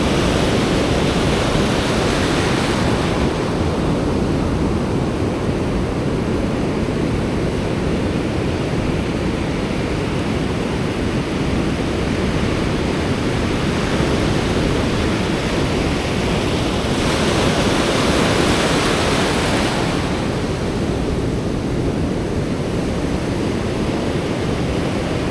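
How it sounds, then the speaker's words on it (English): Ocean surf breaks well out from the shore, a steady broadband roar that runs the whole time, with swells of louder crashing near the start and again later, and no voices. "waves are breaking out pretty far"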